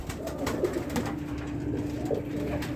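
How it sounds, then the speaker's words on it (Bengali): Pigeons cooing in a loft, several birds giving overlapping low throaty coos at close range, steady and continuous without talk. "আমি দেখাই দিচ্ছি কবুতরগুলো আপনারা দেখেন"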